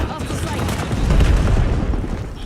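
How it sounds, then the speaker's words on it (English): A cluster grenade goes off in a video game, a loud, deep rumbling boom that swells and rolls on for a couple of seconds, close and heavy. "Cluster grenade going out"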